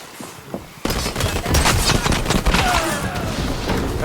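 Rapid automatic gunfire in the video game HighGuard, a loud sustained burst of shots starting abruptly after a brief quieter moment and continuing densely to the end.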